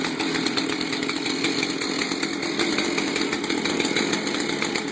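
A chainsaw runs at steady high idle while warming up, a loud, close, continuous buzzing drone with no pauses or throttle changes.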